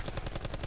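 Rapid automatic gunfire from Call of Duty Blackout battle royale, a steady burst of evenly spaced close shots with no talk.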